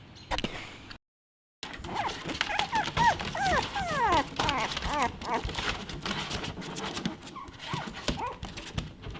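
A young dog whimpers and yelps in a run of rising, squeaky cries, fairly close, with creaks and rustling around it after a brief silence.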